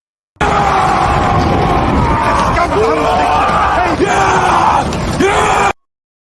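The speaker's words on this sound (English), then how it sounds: "Of the many soldiers who were laughing and shouting with joy, only Amlet was shouting with hatred and anger" A crowd of soldiers yells and whoops together around a campfire, a dense, loud, continuous roar of many voices for about five seconds, with a few bellowing shouts rising out of it.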